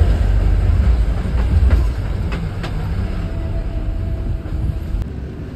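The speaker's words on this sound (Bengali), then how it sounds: "আর এই যে টয় ট্রেন, একই লাইনে 2টো টয় ট্রেন পরপর আসছিল" The Darjeeling toy train rolls past on its hill track with a loud, low rumble and scattered wheel clicks, the noise easing slightly as it moves on.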